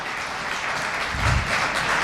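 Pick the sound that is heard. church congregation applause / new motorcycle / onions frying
church congregation applause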